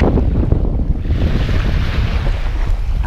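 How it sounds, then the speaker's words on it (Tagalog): Strong wind buffets the microphone outdoors while fishing, a loud continuous rumbling roar with gusty low thumps and no talking. "Kaya lang malakas ang hangin."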